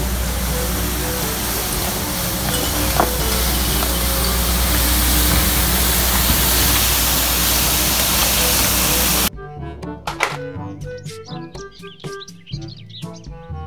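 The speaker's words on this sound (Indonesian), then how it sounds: "Mobil truk pembersih" A street cleaning truck sprays water in a steady, loud hiss that runs unbroken for about nine seconds, then cuts off abruptly into bright chirping birdsong.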